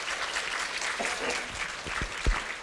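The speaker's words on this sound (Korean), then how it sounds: "고등학교 교육과정 및 고교학점제에 대해서 강의해 주신 이창현 부장님께 다시 한번 큰 박수 부탁드립니다" A lecture audience of parents applauds, scattered hand claps with a few louder nearby claps standing out from a steady patter.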